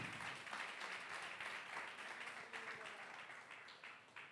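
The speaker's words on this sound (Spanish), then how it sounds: "Denle ese aplauso a Dios, si se lo va a dar," A church congregation applauding during a Spanish-language service, a steady wash of clapping at moderate distance, faint overall, lasting the whole stretch with slight swells.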